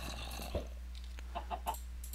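A chicken in the video game Sim-U-Kraft gives a few soft, brief clucks over a steady low hum, faint and spaced apart.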